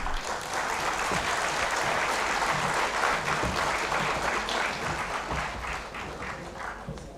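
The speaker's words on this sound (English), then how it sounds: "May I request you to welcome them with a warm round of applause" Seated delegates at the inaugural session of a rule-of-law convention in New Delhi give dignitaries a sustained round of applause, a dense, even wash of clapping that tapers slightly toward the end.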